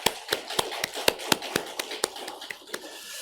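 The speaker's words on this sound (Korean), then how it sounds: "우리 하나님께 감사와 영광의 박수를 올려드리겠습니다" A church congregation at Sunday worship claps in unison, about four crisp, even beats a second, fairly soft and steady over a quiet room.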